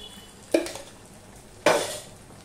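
A metal spoon stirring sugar into khichuri in a pan, giving two distinct clattering scrapes about a second apart against a quiet background.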